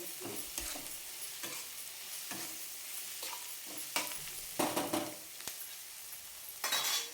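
An onion and tomato masala with chilli paste, coriander powder, turmeric and salt sizzles in oil while a spoon stirs and scrapes the pan, making several louder metallic clinks near the end.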